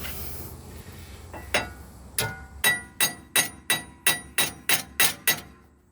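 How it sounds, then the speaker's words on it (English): Sharp metallic hammer strikes on a front wheel bearing of a 2004 Dodge Ram 1500, a few scattered blows then a steady run of about ten evenly spaced hits, loud and close. "Hammer. It's hammer time."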